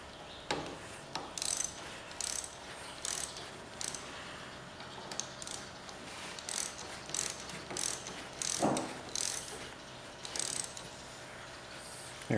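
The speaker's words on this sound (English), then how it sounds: "where's my socket wrench? Never mind, I found it." Socket wrench ratcheting while working on a 1977 John Deere 212 tractor's fuel system, a series of short bright clicking bursts repeating steadily at close range, with no talking.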